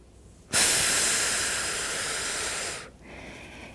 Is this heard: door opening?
no